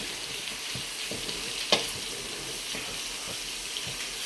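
Garlic paste sautéing in hot oil for Mumbai-style misal until crispy and browned, a steady close sizzle with occasional stirring clinks and scrapes, no voices.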